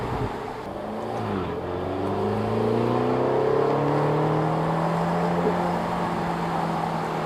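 Ferrari California T engine on a test drive, a smooth rising whine as the car accelerates, climbing in pitch over several seconds and then holding a steady cruising tone.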